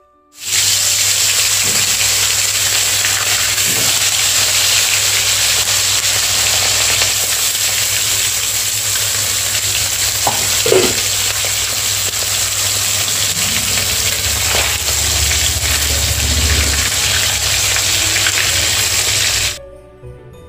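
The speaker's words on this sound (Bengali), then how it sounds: "মাছটা আমি লাল করে ভেজে নেব" Tilapia fish frying in very hot oil, a loud continuous hiss and crackle that holds steady for almost twenty seconds with an occasional spatter, and no voices.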